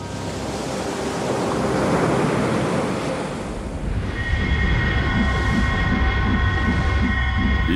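Ocean waves surge in a loud, continuous roar of surf with heavy wind buffeting, shifting into a churning rush with tonal hums later on.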